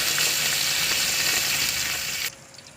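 Garlic sizzles loudly in hot oil in a pot, a dense, steady frying hiss that cuts off abruptly near the end, leaving only faint room noise and no voices.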